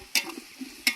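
A spoon scrapes and stirs through a pot of ginger-garlic paste, curry leaves and tomato on the stove, giving two sharp metallic clinks about a second apart with soft shuffling scrapes between them and no talking.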